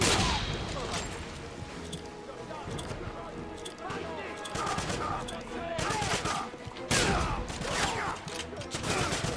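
Kar 98K rifle shots ring out in the video game Wolfenstein (2009), several sharp reports spread across the stretch amid busy game noise and other bursts of fire.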